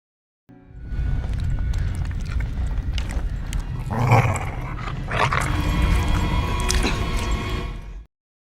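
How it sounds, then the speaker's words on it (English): Dog feeding on a carcass inside a house, making growling, snarling noises that stay loud and continuous over a dense, busy background for several seconds. "he was surprised by a dog that was eating the carcass of its owner"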